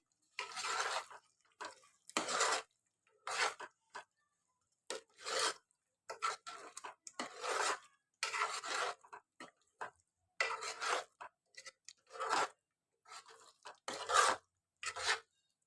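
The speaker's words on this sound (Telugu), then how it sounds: "ఇప్పుడు ఒకసారి మంచిగా అంతా మిక్స్ చేసుకోవాలి" Paneer masala curry is stirred in a pan with a spoon in repeated rasping, scraping strokes, each burst separated by short pauses, close and fairly quiet with no talking.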